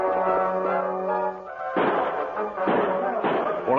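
A pair of sharp gunshot cracks in an old-time radio drama of The Lone Ranger, coming after a held musical tone, loud and close with a brief echo between them.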